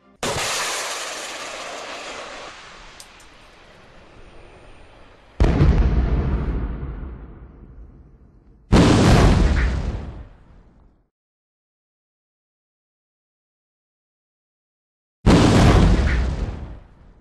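Loud explosions from an active protection system's interceptor shells meeting incoming RPG-7 rockets, in several sharp booming blasts with long decaying rumbles, separated by silence.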